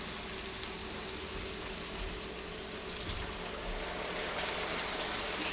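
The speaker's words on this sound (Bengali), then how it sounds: "এখন এটার সাথে সামান্য একটু ঝোল দিয়ে দেওয়ার পালা।" Broth poured into a pan of frying lotia dried fish masala gives a steady, loud sizzle and hiss, unbroken throughout with no voices.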